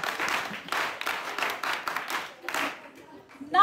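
A class of students claps together in several uneven bursts of applause, close and moderately loud, fading out near the end as a voice begins.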